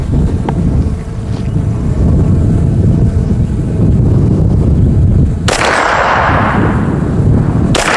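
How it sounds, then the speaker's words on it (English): Wind gusting across a microphone at an outdoor shooting range, a steady low rumble throughout with a sharper broadband burst of buffeting near the end; no one talks. "The wind doesn't help."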